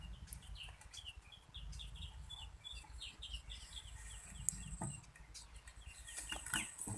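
Chickens cluck in a rural outdoor setting, with repeated short calls at close to middle distance over steady low background noise and a few sharper squawks.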